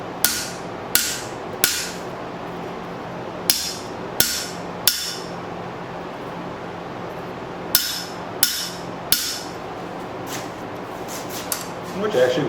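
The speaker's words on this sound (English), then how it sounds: "we'll do the old whack the anvil trick" Hammer blows ringing off an anvil while forging a knife from an old file, about ten sharp metallic strikes in irregular clusters, close and loud, with no talking.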